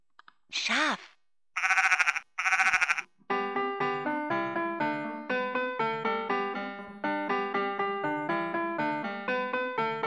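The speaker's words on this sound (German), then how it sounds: "Schaf." A 2009 Vtech Singspaß toy microphone gives three bleating sheep calls, then plays a bright, tinkling electronic melody of repeated plinking notes.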